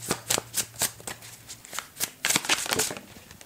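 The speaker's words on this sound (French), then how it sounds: "si je peux avoir une dernière carte" Playing cards pulled from a tarot-style deck, a close run of quick papery flicks and slides in an uneven rhythm, fairly soft with no talking.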